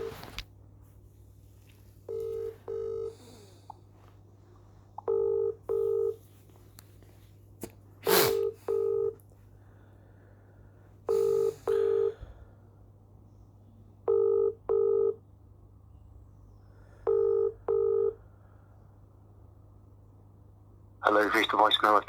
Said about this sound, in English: Ringing up Jonathan Smith.